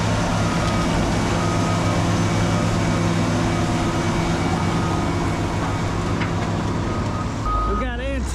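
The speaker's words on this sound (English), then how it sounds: "We've got Antonio in the number 5 compactor with the new wheels." A landfill trash compactor on new wheels works the waste, its diesel engine droning loud and steady and close by, with reversing beeps near the end.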